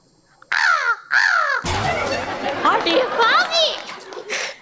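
A person imitates a crow, giving two loud, nasal caws up close, followed by excited children's chatter, laughter and further cawing imitations from several voices.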